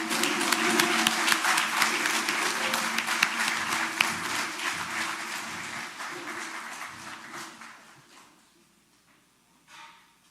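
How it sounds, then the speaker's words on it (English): An audience at a Malcolm X Day event applauds Vanguard award winners, loud sustained clapping from a large crowd lasting several seconds before tapering off, with a brief final patter near the end. "Give them one more round of applause"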